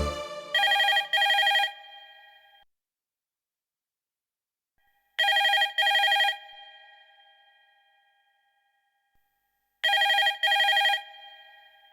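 A telephone rings in three bursts about five seconds apart, each a double electronic trill with a brief ringing tail, clear and close against silence.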